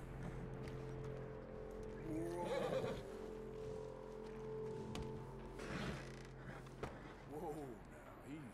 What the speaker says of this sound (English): Let's calm the horse.